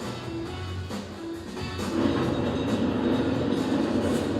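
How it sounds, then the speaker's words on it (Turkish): A tram in İzmir rumbles along its rails, with low rolling noise and faint clatter building up after a moment, fairly close and continuous. "Ve sırada tramvay var."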